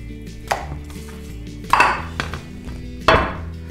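Three sharp cuts of a knife through a salmon or mackerel fillet on a board, spaced apart, with soft background music.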